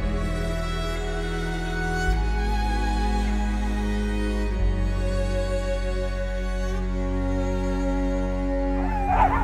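A pack of sled dogs in Lapland howling, yipping and whimpering in a continuous loud chorus, with layered sustained cries throughout and no talk over them.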